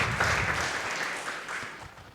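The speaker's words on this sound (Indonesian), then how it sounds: "Yang senang berikan tepuk tangan yang paling meriah buat Tuhan kita." A church congregation at an Indonesian worship service claps enthusiastically, a short burst of dense, sustained applause.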